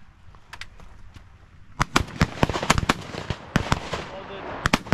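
Gunshots at a quail tower shoot, sharp cracking reports at an irregular pace, some in quick pairs, loud and near, over outdoor background with people talking.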